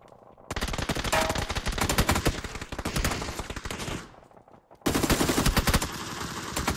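Rapid bursts of MK12 DMR rifle fire in PUBG on the Taego map, loud repeated shots in two long volleys separated by a brief quieter gap, with no talking.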